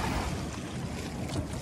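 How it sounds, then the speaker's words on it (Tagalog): A paraw sailboat crosses the sea at Boracay in bad weather, with a steady rush of wind and water and buffeting wind on the microphone throughout. "paraw sailing namin guys."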